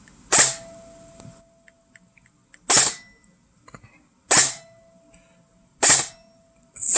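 A Jefftron Leviathan airsoft AEG fires four single semi-auto shots, each a sharp, close snap spaced about a second and a half apart, with faint mechanical clicks between them.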